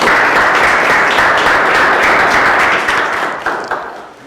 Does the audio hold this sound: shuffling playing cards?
no